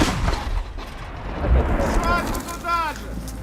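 A heavy gunshot booms and rumbles at the start, followed by short raised voices.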